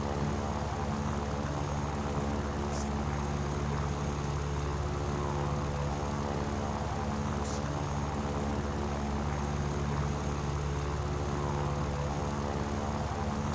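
A propeller-driven fighter plane in War Thunder, a fast tier-one aircraft, gives off a steady, unbroken engine drone with a constant hum that holds close and loud throughout, with no one speaking.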